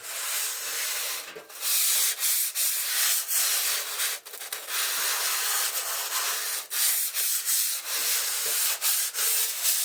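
Sanding paint off the roof of a Citroen C4 Grand Picasso produces a continuous close, hissing abrasive rub with short pauses and rhythmic strokes, heard alone without talk.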